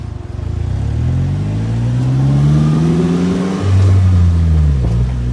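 Polaris Slingshot three-wheeler accelerating with a passenger aboard, its engine loud and close, pitch climbing steadily through a gear before a shift and another rising pull.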